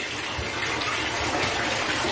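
Water runs steadily from a tap during a bath for rescue puppies, a continuous broadband splash and gush that stays loud and even throughout with no voices.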